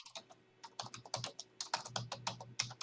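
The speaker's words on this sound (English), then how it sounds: "I'm hearing someone's keyboard pretty loudly." Rapid, irregular clicking of someone typing on a computer keyboard, heard clearly and close over a low steady hum, with no talking.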